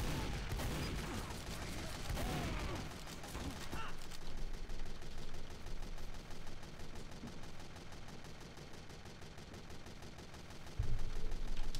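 Rapid gunfire from a Scout in the Team Fortress 2 video game, a dense run of loud crackling shots with a heavier blast near the end and no talk over it.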